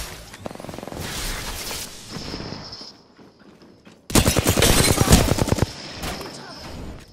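Bursts of rapid gunfire in the video game Apex Legends. A first volley is followed by a lull, then a louder, denser fusillade of sharp close shots with a ringing tone. A voice talks faintly in places.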